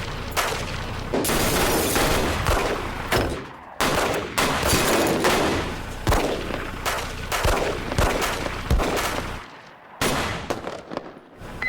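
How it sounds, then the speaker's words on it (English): Gunshots fired inside a school building, dense loud bangs and booming echoes repeating through the hallways with only brief gaps, harsh and close. "Shots fired. Shots in the building."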